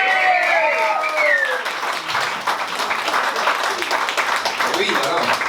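Concert audience applauding the bass player Alain during a live band show, dense clapping filling the room for several seconds, with a voice speaking over the start.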